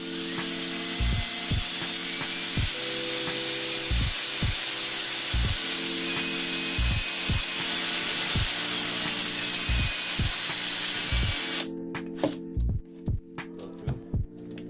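A power drill whirs steadily, its motor pulsing in regular bursts, then cuts off into short stop-start spurts near the end.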